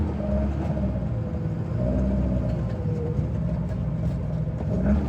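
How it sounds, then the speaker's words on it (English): A hot-rodded BMW 2002 in first gear spins its tire, giving a steady, close engine rumble with a low, continuous drone and no pauses. "First gear. Oh, we're just spinning tire because of that."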